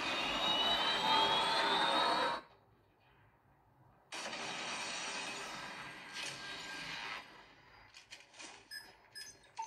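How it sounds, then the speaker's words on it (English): In Call of Duty Mobile, an incoming predator missile gives a loud jet-like roar that cuts off abruptly, then returns as a sustained whoosh before breaking into shorter bursts. "Friendly predator missile inbound."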